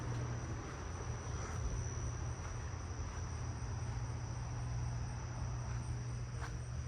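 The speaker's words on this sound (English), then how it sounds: "I'm hearing a lot of Carolina ground crickets back here." Carolina ground crickets trill steadily from a backyard at night, a continuous dense buzzing chorus with a constant low hum beneath and no pauses.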